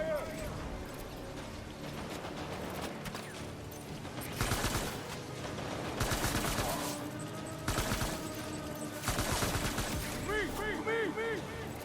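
Gunfire in the Death Stranding video game comes as bursts of rapid shots and sharp cracks, repeating in clusters over game music and effects.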